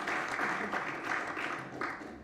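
At a panel event on mobility and the sharing economy in Berlin, an audience applauds with a steady wash of clapping that fades slightly at the end.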